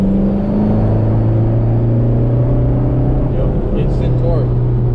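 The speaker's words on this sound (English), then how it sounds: "quick downshift to fourth" A TDI diesel-swapped VW Rabbit pickup pulling hard after a quick downshift to fourth, a loud, steady engine drone heard from inside the cab, with its low tone rising gradually.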